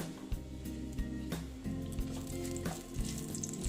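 Whole white cumin seeds and dried red chilies frying in hot oil in a pan, a steady close sizzle with a few sharp crackles and pops, no talking.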